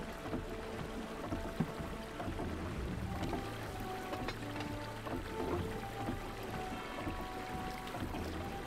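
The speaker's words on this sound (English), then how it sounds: "Water's going out both sides right now." Video game water pouring out on both sides, a continuous faint splashing rush with a brief knock partway through.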